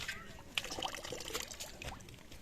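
Water poured out in a steady trickling splash during preparations for a Himachali jagra feast, close and moderately loud, with faint clinks and background voices.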